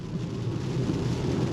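Steady rain noise heard from inside a 2022 Volvo C40 Recharge electric SUV while driving on a slick road, a constant dense hiss with low road rumble underneath, no talking.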